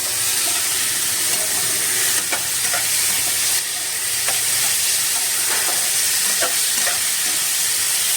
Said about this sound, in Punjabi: ਸੌਸ ਪਾ ਕੇ ਇਹਨੂੰ ਅੱਛੀ ਤਰ੍ਹਾਂ ਮਿਕਸ ਕਰ ਲਾਂਗੇ